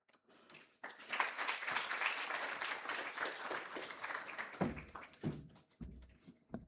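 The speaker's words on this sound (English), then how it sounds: "Another round of applause for Miss Larman, please." An audience at a general orientation session applauds with a broad wash of clapping that swells, holds steady, then thins out into scattered claps and soft bumps before fading.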